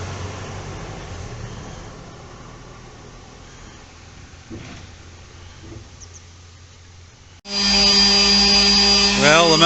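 A mouse sander works on filler on a Kia Ceed JD bumper, first as a faint background whir and then abruptly loud, high and steady near the end.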